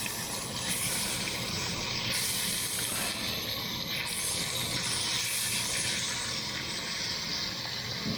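Steak sizzling in a cast iron pan just after being flipped: a steady, soft broadband hiss that holds evenly throughout, with no talking.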